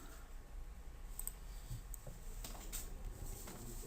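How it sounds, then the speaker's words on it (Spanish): Quiet, faint computer mouse clicks, a few short taps spaced apart against low room noise while working in hydraulic modelling software, with no talk. "este punto de acá le voy a dar doble clic"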